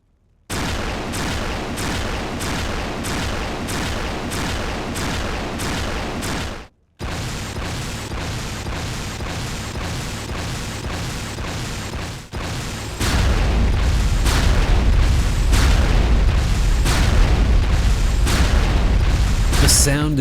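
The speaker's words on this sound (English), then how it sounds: "The primary fire is a high-frequency crack that feels thin and piercing." ASMD Shock Rifle from Unreal Tournament 2004 firing repeatedly, a rapid series of sharp cracking shots in regular rhythm, briefly pausing, then continuing over a heavier low hum in the final stretch.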